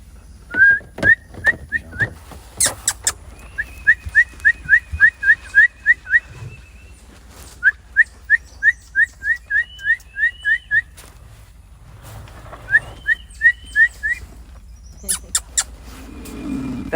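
Baby monkeys in a Panama rainforest give bird-like whistling calls: quick bursts of short, rising chirps repeated in rhythmic runs, fairly close and clear, with brief pauses between groups and no talking.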